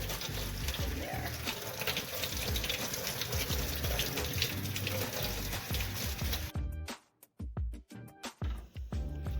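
Tap water rushes loudly into a sink as cottage cheese is rinsed, a dense steady gush that cuts off abruptly near the end, followed by a few clunks and splashes.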